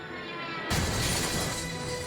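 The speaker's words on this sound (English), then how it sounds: "An out-of-control crop duster crashed headfirst into the Broadview luxury apartment." An out-of-control crop duster plane crashes into a luxury apartment building, heard as a sudden loud burst of shattering glass and crash noise that keeps roaring broadly after the impact.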